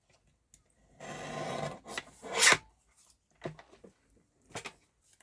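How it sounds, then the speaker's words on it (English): A paper guillotine trimmer slices through cardstock in a short rasping cut, followed by a few light scraping and tapping sounds of handling, close and clear in a quiet room. "I am going to put this in the guillotine and cut it right there"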